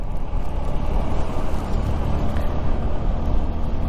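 Car cruising on the NH18 concrete highway in Odisha toward Baharagora, a steady loud cabin rumble of engine and road noise heard from inside, with no talking.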